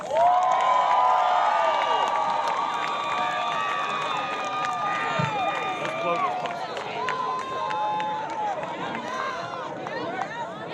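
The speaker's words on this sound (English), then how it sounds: "give yourselves a round of applause" A large crowd at a high school graduation ceremony cheers and shouts with high excited voices and scattered applause, sustained and loud throughout.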